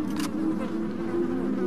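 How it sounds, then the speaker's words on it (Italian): Flies buzz in Resident Evil 4 HD Remastered as a steady, close, droning hum that holds for the whole moment, with a brief noisy burst of game sound near the start. "Mazza ste mosche però."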